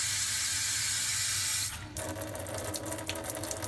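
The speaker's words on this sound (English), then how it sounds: "the filtered water comes out this side" Filtered water runs from a Brita chrome faucet-mounted filter into a sink, a steady close hiss that drops in tone partway through as the flow changes, with faint clicks from the filter mechanism.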